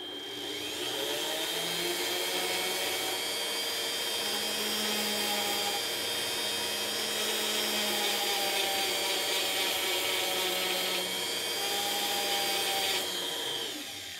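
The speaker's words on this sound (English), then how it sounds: "I'll just turn the lathe on at a kind of a medium speed and then just give it a general go over with the sandpaper on the Dremel" A lathe spins a mammoth tooth ring at medium speed while a Dremel sands it, giving a steady close whine with a high sustained tone and a low motor hum, continuous over several seconds with slight shifts in pitch.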